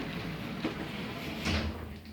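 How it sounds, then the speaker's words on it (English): Oakland Excelsior lift doors at Fratton Station slide shut with a steady mechanical hum and soft rumble, ending in a brief closing thud, all close and moderately loud. "Doors closing."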